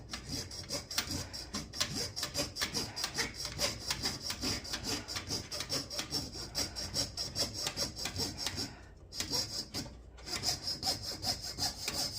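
A coping saw pierces a large 6-inch copper coin in rapid, even back-and-forth strokes that rasp and squeal steadily, close up, pausing briefly twice near the end before sawing resumes.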